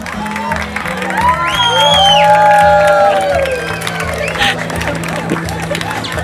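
Outdoor crowd watching the sunset on Kalymnos breaks into applause, cheering and whoops that swell and then fade, with voices talking and shouting through it.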